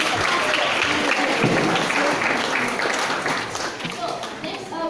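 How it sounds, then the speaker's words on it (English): Audience applause at a legal tech hackathon, a dense, even wash of many hands clapping that holds steady for several seconds before easing slightly, with a voice speaking over it. "Let's give them a big round of So applause."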